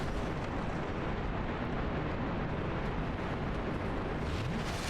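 A loud, dense explosion from the video game Dark Souls Remastered, a continuous roaring blast of rumbling noise that fills the whole clip with no talk over it.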